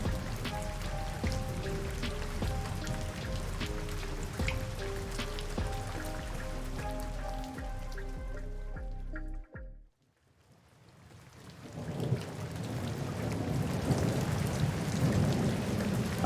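Rain falls steadily on a surface through a thunderstorm, with a heavy rumble of thunder before a sudden cutout to near silence, then the rain swells back in.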